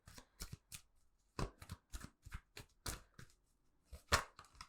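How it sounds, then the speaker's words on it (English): A deck of cards being shuffled by hand in a quiet room, a series of short crisp riffling bursts with brief pauses between them, close and clear. "Do another little shuffle-roo."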